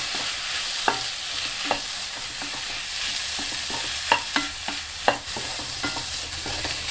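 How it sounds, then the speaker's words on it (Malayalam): Chopped tomatoes being stirred into a sizzling bean masala curry, a constant frying hiss broken by repeated scraping and clacking strokes of a spoon against the pan. "അതിലേക്ക് അരിഞ്ഞു വെച്ചിരിക്കുന്ന തക്കാളിപ്പഴം ചേർക്കാം. നന്നായിട്ടൊന്ന് മിക്സ് ചെയ്ത് കൊടുക്കണം."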